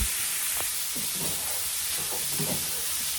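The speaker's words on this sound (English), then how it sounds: "Frying up these sausages for my gumbo right here." Sausages for gumbo fry in a pan with a steady, dense sizzle and hiss, with a few soft stirring or shifting sounds on top and no talking.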